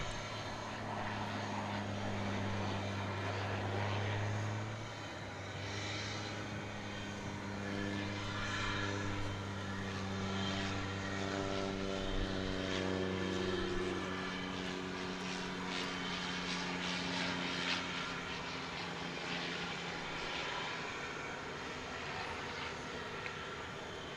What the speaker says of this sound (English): here comes the next plane. It's a little cargo plane.